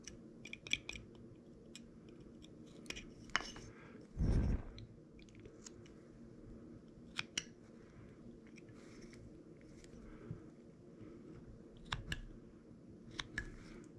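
A knife whittles wood while carving a mouth on a small figure, producing faint, scattered close scraping and clicking cuts, with one louder rustling burst partway through.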